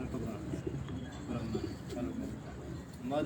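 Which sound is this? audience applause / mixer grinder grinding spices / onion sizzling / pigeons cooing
pigeons cooing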